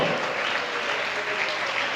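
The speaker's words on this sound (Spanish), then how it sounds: "Un aplauso a Jesús, hombre, eso está bueno." Dense, steady applause from a church congregation cheering for Jesus during a sermon on the resurrection, a continuous wash of many hands clapping at moderate distance with faint voices underneath.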